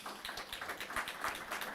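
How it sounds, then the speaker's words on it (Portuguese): Congregation clapping during a church sermon, a dense, steady patter of many hands sustained throughout at moderate volume. "Você pode aplaudir o nome do Senhor?"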